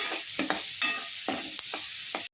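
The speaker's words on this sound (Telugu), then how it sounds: "ఆవాలు జీలకర్ర వేలు వేయించుకుంటున్నాము ఇలా బాగా వేయించుకోవాలి" Mustard seeds, cumin, green chilli and capsicum frying in oil for a vegetable curry, a close sizzle broken by repeated spoon stirs and scrapes against the pan, with no talking.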